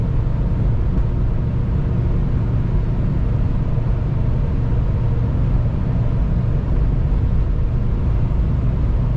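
A turbocharged engine keeps up a loud, steady broadband drone with rumble and no clear change in pitch, running continuously with no voices.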